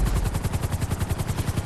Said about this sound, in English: Oh, we're in army choppers.